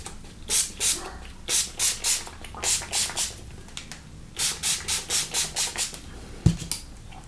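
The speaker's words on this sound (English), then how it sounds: "I'm going to go ahead and use her favorite setting spray, and this is the Refresh Hydrating Setting Spray by Koki." A Koki Refresh Hydrating Setting Spray pump bottle spritzes about fifteen times in quick, even bursts of close, soft hiss, with short gaps between them and a small knock near the end.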